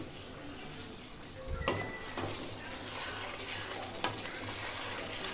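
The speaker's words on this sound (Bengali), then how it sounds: "বেশ কিছুক্ষণ পর আবার ঢাকা খুলে আমি একটু নাড়াচাড়া করে নিচ্ছি মাংসটা।" Chicken meat cooking in a pan for chicken kosha is stirred, with a low steady sizzle and a couple of soft scraping knocks from the utensil, quiet and close.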